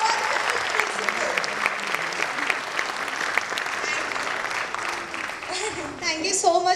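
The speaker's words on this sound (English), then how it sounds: "Let's all give a big round of applause for our wonderful principal." A school annual day audience claps loudly for the principal, a full, sustained burst of applause with a voice emerging near the end as the clapping continues.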